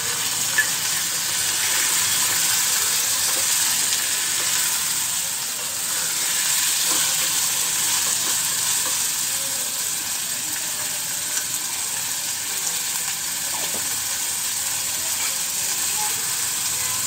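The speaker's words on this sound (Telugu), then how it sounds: "తర్వాత ఈ బీరకాయలను ఇందులో వేసుకోవాలి." Pieces of ridge gourd hiss and sizzle steadily in a hot pan with ginger garlic paste, an even, continuous frying noise that barely changes, with no voices.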